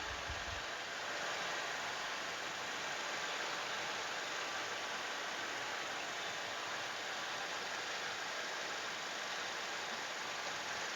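A 2014 Toyota Innova G with a 2.0 petrol engine and manual gearbox idles steadily, a constant, even hum with no talking over it.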